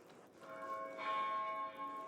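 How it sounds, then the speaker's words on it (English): An abbey bell from the game Pentiment rings out in sustained, shimmering tones that swell after a softer opening and hang resonantly over a quiet background. "Oh, it's the bell!"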